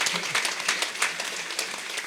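An audience at a meditation hall event applauding, a dense wash of many hands clapping together, steady and fairly loud for about two seconds.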